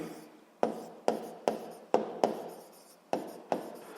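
Pen strokes on paper while writing out a physics exercise by hand, sharp scratchy onsets repeating about twice a second, each fading quickly, close and alone.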